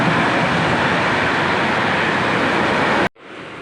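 A Mumbai suburban train pulls into a station, a loud steady rumble of wheels and carriage noise filling the space before cutting off abruptly near the end.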